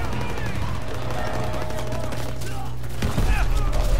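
Dense, continuous gunfire fills a World War II battle in Call of Duty: WWII, with rapid overlapping bursts and a louder, heavier volley near the end.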